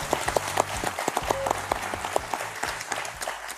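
A French television studio audience claps to welcome host Thierry Beccaro, with close, distinct individual claps over a lively crowd, while music plays underneath.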